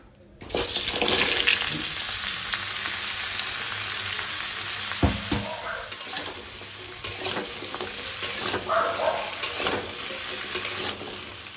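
Vegetables drop into hot oil tempered with nigella seeds, bursting into a loud, sustained sizzle that settles into steady frying, punctuated by several scraping stirs and clanks.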